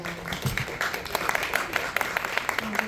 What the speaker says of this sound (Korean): 다시 한번 저희 기획이사님께 큰 박수 부탁드리겠습니다.